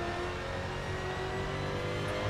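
A Mercedes DTM race car engine holds on throttle in RaceRoom, a continuous, fairly quiet drone that stays steady throughout with no pauses.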